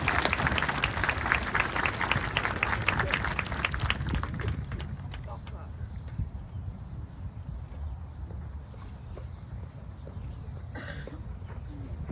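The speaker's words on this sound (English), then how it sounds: "Let's have another round of applause" At a middle school graduation ceremony, a crowd claps loudly for about four seconds, then the applause fades out, leaving a quiet room with scattered coughs and small shuffling noises.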